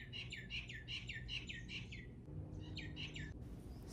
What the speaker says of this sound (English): you get to experience the birds and listen to them with me